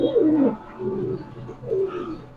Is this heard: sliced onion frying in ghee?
no